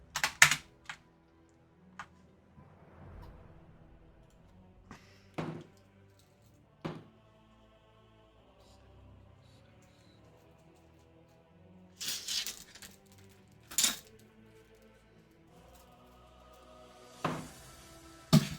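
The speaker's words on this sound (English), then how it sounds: "Just listening to Dylan silently roll dice" Dice are rolled during a tabletop role-playing game session, sparse clattering bursts scattered across a quiet background, some louder clusters of rattling and tapping, close and with no talk over them.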